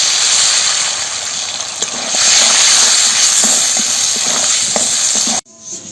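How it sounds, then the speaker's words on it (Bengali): Potato pieces frying in hot oil in a pan for a stingray fish curry, a loud steady sizzle with faint stirring clicks throughout that cuts off abruptly near the end. "এবারে মাছের ঝোলে যে আলুটা দেবো সেই আলুটাকে ভেজে নামিয়ে নেব"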